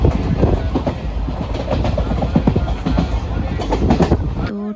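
Train running on rails, heard from inside the carriage: a loud continuous rumble with rhythmic clickety-clack beats, ending abruptly after a few seconds.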